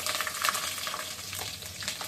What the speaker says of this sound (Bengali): আলুগুলো ভাজা হয়ে যাবে।